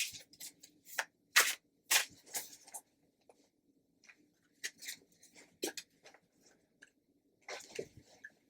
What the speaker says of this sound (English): And I think I need another shuffle here.